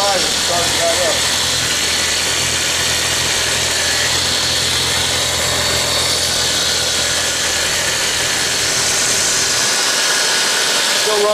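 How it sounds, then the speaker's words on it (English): An engine with gummed-up fuel injectors runs rough and loud at close range, a dense steady roar and clatter that drops off abruptly near the end, with a voice speaking over it. "Injectors are probably gummed up so bad that it doesn't want to run right"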